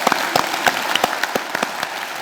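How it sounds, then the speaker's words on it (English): Audience applause in a hall, a steady wash of many hands clapping with sharp individual claps standing out, loud and continuous throughout with no talking. "Can you put your hands together and thank Andrew Neil MacLeod?"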